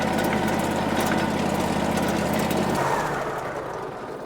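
A sawmill engine running with its alternator charging, a loud, steady mechanical drone with a low hum that drops in pitch and eases off toward the end.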